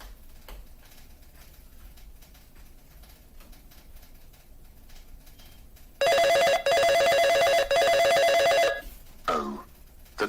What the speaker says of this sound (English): I am calling Evil Lightning McQueen